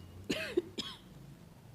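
A teacher coughs a few times during a Hindi-language home science lesson on cell division, two sharp bursts close together over a quiet room, with no talk.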